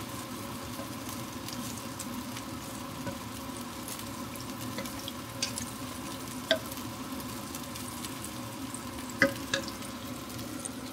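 Chorizo de Bilbao frying in a pan, a steady quiet sizzle and crackle throughout, with a few sharper pops and light clinks of a utensil against the pan, no talking.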